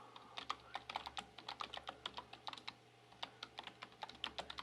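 Someone types a book title into a library search box on a computer keyboard, giving quick, irregular clicking keystrokes in short runs with a brief pause midway, close and fairly quiet, with no voices.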